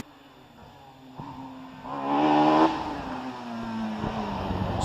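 A bike-engined Caterham race car accelerates up the Prescott hillclimb course, its high-pitched engine note swelling louder as it passes closest, then easing back into a steady, slightly more distant drone.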